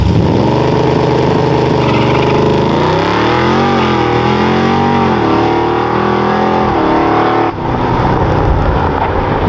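LS3 V8 engine in an El Camino revving hard on a transbrake, bouncing off the rev limiter in a loud, sustained roar with wavering pitch and a brief dip near the end; no talking.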